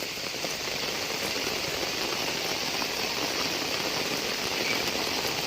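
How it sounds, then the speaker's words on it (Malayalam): Heavy rain falls in Kozhikode as a dense, steady hiss, drumming evenly on surfaces. It is loud and continuous, with a faint low rumble underneath. "കനത്ത മഴ"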